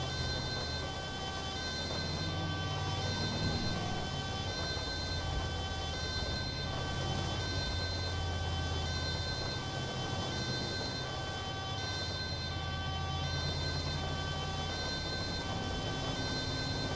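An ambulance siren wails on continuously in the GTA 5 video game EMS mod, its steady electronic tone partly buried beneath heavy rain noise during a busy shift.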